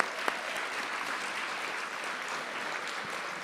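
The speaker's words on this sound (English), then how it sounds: "let's give him a round of applause" A crowd claps steadily throughout, a dense even wash of applause at moderate distance with no voices standing out.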